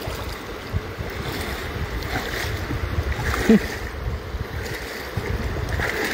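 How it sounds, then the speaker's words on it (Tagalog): Strong river current rushing loudly and continuously at a cast-net fishing spot, a broad watery roar with wind buffeting the microphone. "Masyadong malakas ang ragasan ng tubig."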